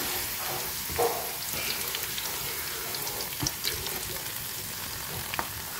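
Chicken frying with garlic and onion in a pan gives a steady, close sizzle, broken by a few clinks and scrapes of stirring.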